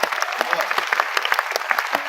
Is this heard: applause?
yes